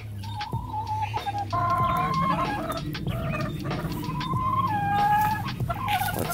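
Hens clucking steadily in a farmyard coop with a rooster crowing among them, a busy chorus of close, overlapping bird calls filling the scene throughout.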